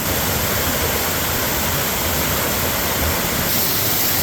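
Waterfall at Miners Run in the McIntyre Wild Area, a steady, dense rush of falling water that fills the whole scene evenly with no pauses or voices.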